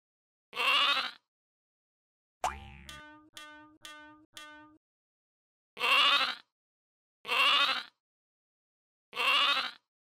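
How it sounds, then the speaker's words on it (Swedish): A lamb bleats in four separate wavering calls spaced across the stretch, close and clear, alongside a bouncy boing-like sound effect in a children's program. "Ett lamm."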